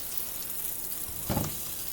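Rainbow trout frying in butter in a pan, a soft steady sizzle with a brief louder crackle partway through, no talking.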